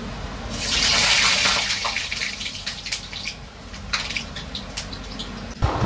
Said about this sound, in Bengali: এখানে আমি হচ্ছে গিয়ে আলুগুলোকে ভেজে নিলাম